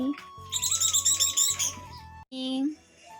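Pet budgerigars give a quick burst of bright, overlapping chirps and tweets, then a short call after a brief gap, close by and fairly loud, with a low steady hum beneath.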